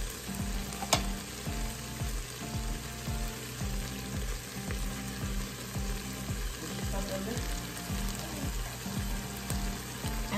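Steak and vegetables sautéing in a pan, heard as a loud, constant close sizzle of frying with a rhythmic repeating pattern underneath and an occasional sharp tick, no voices over it.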